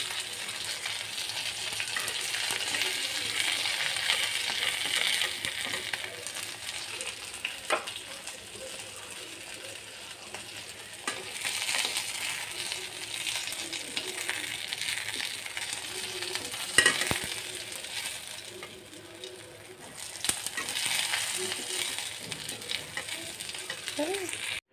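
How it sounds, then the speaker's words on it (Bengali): Tatkini fish frying in oil in a wok give a continuous, moderately loud sizzle and spatter that swells and eases, with a few faint clinks of stirring. "মাছ ভাজা হয়ে গেছে, এখন নামিয়ে নিব।"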